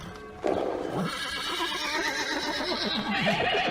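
Frightened horses in stables give loud, drawn-out neighs and whinnies over a busy, rumbling background, with a hint of hoof clatter, the calls overlapping and continuing throughout.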